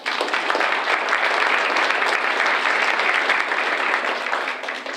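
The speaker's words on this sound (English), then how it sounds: "Congratulations and a well-deserved round of applause." Sustained applause from a large audience at a spring graduation ceremony, steady and full throughout, fading slightly at the very end.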